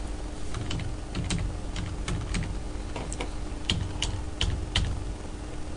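Close, crisp keystrokes on a computer keyboard tap out in uneven bursts against quiet room noise, entering figures into an accounts payable form.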